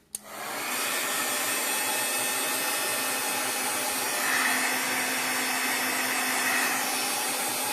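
A hair dryer blows steadily and loudly at close range to dry a chalk-paste craft sign, a continuous whooshing whine that starts abruptly and holds for several seconds with no speech.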